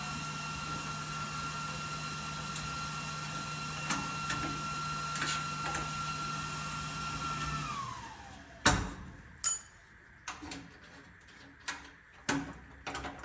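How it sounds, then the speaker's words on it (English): Clamps pulled one after another off widened F1 car fender patch panels: a series of sharp metallic clacks and knocks in the second half, following a steady machine hum that stops partway through. "All right, we'll pull these clamps out."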